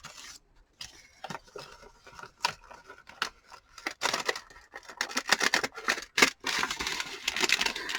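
Scissors cutting along the side of a paper envelope, a series of close crisp snips and paper rustles in uneven bursts, growing denser toward the end, with no talking.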